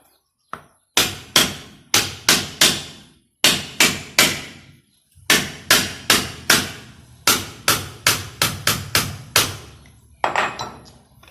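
A hammer drives a wooden rod into a PVC pipe in repeated sharp knocks, sounding in quick bursts of three to five hits with brief pauses between groups, close and loud.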